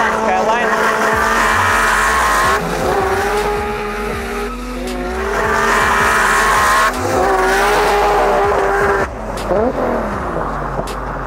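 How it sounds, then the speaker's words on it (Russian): A Toyota Starlet and a Nissan Skyline race from a traffic light start, engines revving and screaming as they accelerate hard, tires squealing, the engine note climbing through gear changes, loud and close, voices occasionally underneath. "По светофору у нас едут Toyota Starlet против Nissan Skyline."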